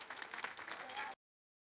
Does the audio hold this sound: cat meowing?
no